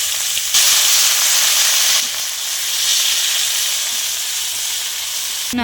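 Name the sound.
spices and chopped onions sizzling in hot oil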